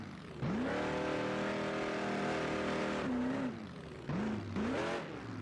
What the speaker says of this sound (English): You can hear that the older Dodge is just a little more underpowered than some of these newer race trucks